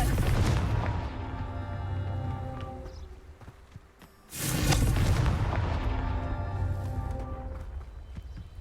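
A Confringo spell blast in the PS5 game Hogwarts Legacy: a loud, full rumbling burst that swells, fades to a lull, then erupts again with a second heavy booming explosion that rolls on under sustained game sound.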